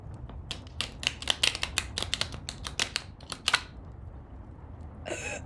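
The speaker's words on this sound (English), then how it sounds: "I also have to, like, shuffle them on my leg, though, so it's gonna sound interesting." Tarot cards are shuffled against a leg: a rapid run of crisp, clicking card flicks that comes in quick bursts, then thins out, with a brief papery riffle at the very end. The sound is close and intimate, with no talking.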